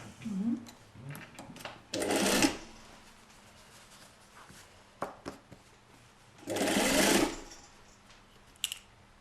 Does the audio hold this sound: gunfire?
no